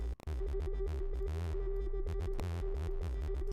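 Synthesizer beat built in Reaktor with reverb added, a pulsing low thump and a sustained mid tone, a sharp hit near the start and steady rhythmic throbbing, moderately quiet.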